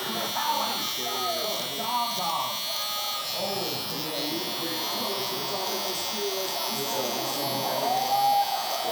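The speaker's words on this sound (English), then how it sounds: "this type of hair, it's always difficult to line up no matter what trimmer I've used" A Stylecraft Rebel hair trimmer buzzes steadily while lining up the front edge of longer hair, its electric hum running throughout beneath a person talking.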